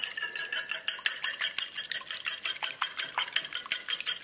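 A whisk beats an egg in a bowl with quick, even metallic clicks and scrapes, about four or five strokes a second, steady and fairly close with no talking.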